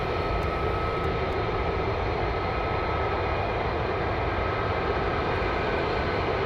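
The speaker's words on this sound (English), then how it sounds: "we have the F-35s now, just taxiing out" F-35 fighter jets taxi out at RAF Lakenheath, a loud, steady engine roar with a high whine held at constant level throughout, no voices.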